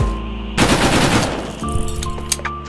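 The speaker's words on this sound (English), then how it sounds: "Also some pretty good weapon sounds." Gunfire from weapons in the Gorebox video game: a loud, close burst of rapid shots, followed by a short sharper report with ringing tail.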